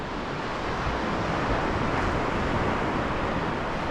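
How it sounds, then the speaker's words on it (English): An easterly wind blows across the coast at Porthcawl, a steady, loud roar of rushing air and microphone buffeting that holds for the whole stretch without pause and with no voices. "Got an easterly wind. It's not a great wind, to be honest. It's cutting right across me"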